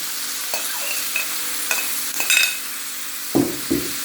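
Onions frying and being stirred in hot oil after the meat's liquid has cooked off, giving a steady sizzle with a few scraping stirs and two louder clatters near the end, close up with no talk.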